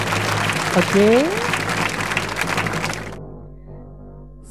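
Audience applause at a government awards ceremony, a dense burst of clapping with voices over it that cuts off abruptly after about three seconds, leaving quiet room tone.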